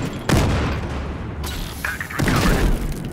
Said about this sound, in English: Tossing a grenade. And that's a frag kill.